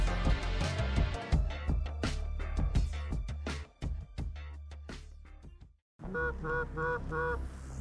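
Flock of geese honking repeatedly and loudly at close range during a late-season conservation hunt in Ontario, overlapping calls in a dense chorus, then a brief pause before another burst of honks.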